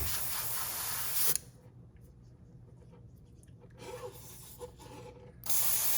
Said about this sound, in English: clean out the airbrush, load a little bit of black back in it